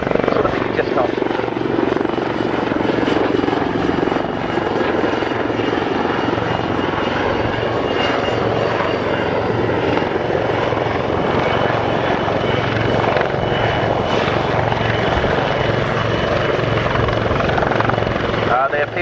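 AH-1 military helicopters hovering during an air show vehicle interdiction display at Yeovilton: a steady, loud rotor and engine roar throughout with continuous thudding blade chop, and a voice talking over it.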